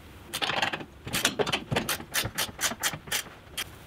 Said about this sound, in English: Now all we have to do is torque our bolt here for the upper thrust arm bushing.